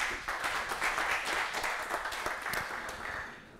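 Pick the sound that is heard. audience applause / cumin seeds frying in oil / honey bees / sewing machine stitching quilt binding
audience applause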